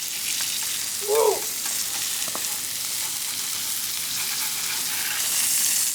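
Salmon fillet frying skin-side down on a flat-top griddle, a steady close hiss of sizzling fat running the whole time, with one brief scrape or stir partway through and no talking.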